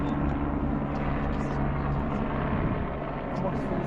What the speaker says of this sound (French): Non, c'est un drone.